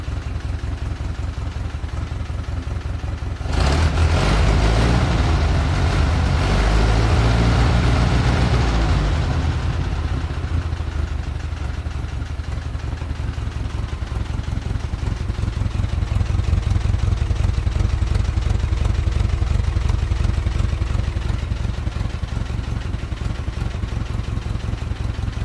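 A freshly assembled GAZ-MM truck engine with an updraft carburetor runs, starting abruptly a few seconds in with a loud clattering roar, then settling into a steady low idle that continues to the end.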